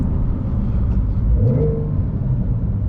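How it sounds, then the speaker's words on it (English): A Porsche 911 GTS engine rumbles loudly and close, rising into a quick rev partway through before settling back to a deep idle. "Oh, that engine sound is terrific, terrific."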